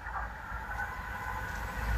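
Class 66 diesel locomotive 66769 passing Ranskill level crossing in Yorkshire, a steady close rumble of engine and rolling wagons holding at a fairly loud level, with no voices.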